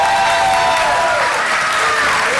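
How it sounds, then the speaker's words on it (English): Applause at a school board meeting honoring a teacher of the year, a loud, dense burst of clapping from the room with a faint cheer mixed in, sustained throughout. "A round of applause for Miss Dillon."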